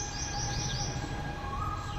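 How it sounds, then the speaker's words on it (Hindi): An Asian koel (cuckoo) calls outdoors in short rising whistled notes that repeat over a steady background hum, with faint chirps from other birds. "अब यहाँ कोयल की आवाज़ सुनने के बाद"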